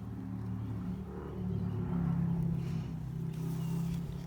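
A car engine rumbles steadily, growing louder and then easing off as the vehicle passes at a moderate distance, with no voices.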